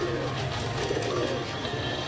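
A pet pigeon coos softly, low rolling calls close by over a quiet steady background.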